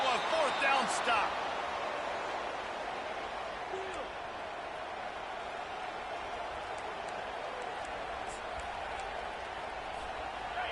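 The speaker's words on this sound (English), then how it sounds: "This crowd busting the decibel meter and trying to will a 4th down stop." A stadium crowd in the video game NCAA College Football 25 roars with a dense, steady wash of noise during a fourth-down stand, swelling briefly at the start and then sustained, with occasional sharp thuds within it.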